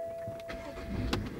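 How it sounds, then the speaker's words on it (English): A BMW six-cylinder car engine cranks and catches inside the car, a short starter whir followed by a brief rising burst as it fires, with faint interior noise around it. "Start her up."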